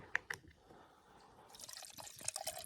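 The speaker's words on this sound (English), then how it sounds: "And then we just pour." A drink is poured into a cup at a campsite, opening with a couple of sharp clinks before a soft trickling fill that grows louder toward the end, quiet and close.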